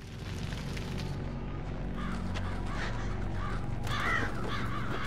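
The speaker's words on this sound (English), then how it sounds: "Oh, it's a crow." Crows cawing in Resident Evil 5, several harsh caws repeating over a steady background rumble of game ambience, moderately loud.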